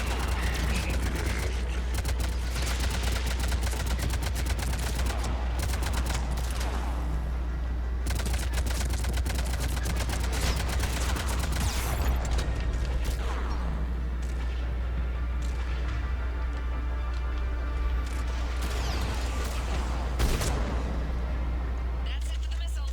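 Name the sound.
gunship missiles and gunfire in the video game Mass Effect 3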